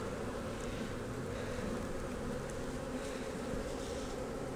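A dense, continuous drone of many Italian honey bees buzzing close up around a hive frame, steady and unbroken throughout.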